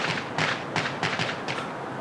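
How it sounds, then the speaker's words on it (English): Fireworks bursting outdoors near water, about five separate muffled thuds spaced unevenly over two seconds, moderately distant with no talk. "Fireworks."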